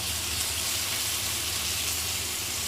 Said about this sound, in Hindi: अच्छे तरीके से हम हर साइड से इसे इस तरह फ्राई करेंगे